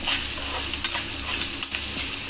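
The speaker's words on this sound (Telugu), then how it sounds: "ఆనియన్స్ అయితే వేగిపోనియండి." Onions frying in a pan for a home chicken curry, a steady broad sizzle with a few sharp spatula scrapes and clicks over it, close and alone.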